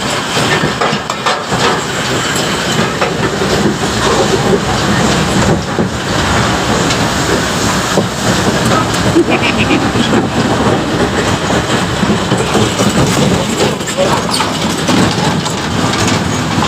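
An amusement park train ride rolls along its rails at Fantasy Kingdom, giving a steady, loud rumble with faint clacking that runs throughout amid crowd noise and general ride commotion.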